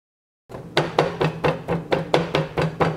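Knife chopping garlic finely on a cutting board for garlic butter naan, about nine steady, close, crisp knocks in an even rhythm, with no talking.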